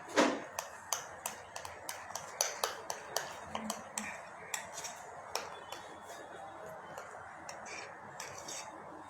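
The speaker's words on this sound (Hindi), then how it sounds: "अब इस पेस्ट को हम मिक्स कर देंगे" Spoon stirring a paste of cardamom powder, black pepper and salt in a bowl, a fairly regular series of light clicks and scrapes against the bowl, close and quiet, with no talk.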